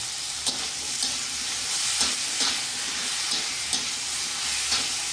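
Chopped vegetables and tomato fry in a pan with a constant close sizzle, broken every second or so by soft scraping stirs of a spatula; no one speaks.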